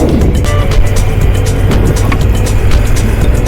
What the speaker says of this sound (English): Okay, this is my escort vehicle.